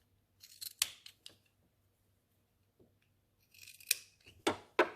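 Scissors snipping through fabric ties of a children's fitted mask, a few sharp close cuts in two clusters separated by a quiet pause, no talking.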